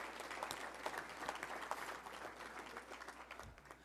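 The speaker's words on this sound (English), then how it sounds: "Let's give them a round of applause for always being willing to help" An audience at a Touchdown Club luncheon applauds its volunteers, a soft, steady wash of many hands clapping that fades slightly toward the end and sounds distant and faint.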